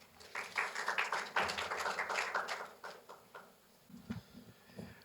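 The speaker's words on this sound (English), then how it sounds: "So please give him a big applause." Audience applause at a lecture hall talk, a scattered patter of clapping from a modest crowd that swells briefly then thins out into a few sparse claps.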